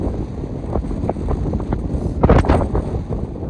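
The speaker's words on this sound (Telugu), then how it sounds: "ఇక్కడ నుంచి ఫుల్ గాలి వస్తుంది" Strong wind near the Sangam river confluence in Ladakh gusts hard against the microphone, a loud, continuous roaring buffet that swells into a heavier blast midway, with no voices.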